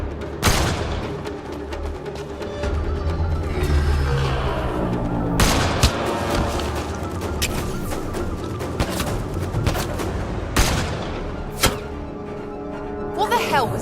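Sniper and gunfire shots in the sci-fi shooter Mass Effect: Andromeda, sharp cracks and booms spread through the stretch over a busy game soundscape, with voices talking in between.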